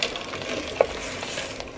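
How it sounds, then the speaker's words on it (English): Spoon stirring cranberry sauce in a pot as it comes to a gentle boil, a soft continuous scraping and bubbling with one brief clink near the middle, close and fairly quiet. "I'm just going to give this a stir"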